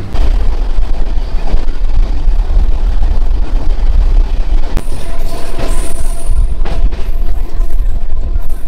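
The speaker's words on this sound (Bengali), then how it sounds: "ফাইনালি ট্রেনে তো চেপে গেছি" Steady rumble and rattle from inside a moving local train on the way to Jiaganj in Murshidabad, loud and continuous throughout with no talking.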